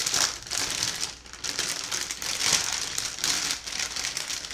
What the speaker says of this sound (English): It shows that I'm cutting the steak bag